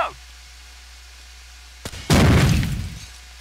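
Frag grenade explosion in Rainbow Six 3: Raven Shield, a sharp click, then a loud, close, full-spectrum blast with a rumbling tail that fades over about a second.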